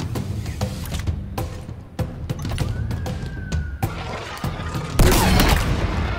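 Gunfire in the Halo Infinite video game, with sharp bursts of shots and booms in a dense, loud firefight, plus a rising whine and a heavy blast near the end.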